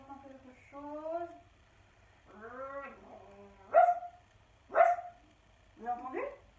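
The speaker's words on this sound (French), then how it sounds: "Un chien? C'est le chien qui arrive." A dog yelps and whines a few times, then lets out two sharp barks followed by another short yelp, fairly close.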